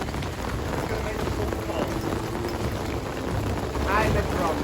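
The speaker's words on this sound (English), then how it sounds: "Now it's raining." Steady rain from a tropical rainstorm pours as a dense, continuous hiss under gusty wind buffeting the microphone, with a faint brief voice near the end.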